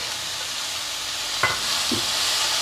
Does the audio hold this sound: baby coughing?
no